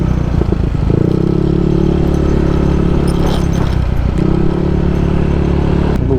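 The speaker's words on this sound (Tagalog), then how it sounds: "Buti na lang nakakasingit yung motor." Yamaha NMAX V2 motor scooter weaving through heavy one-way traffic on a long road trip, its engine a steady close drone that dips briefly mid-ride before resuming.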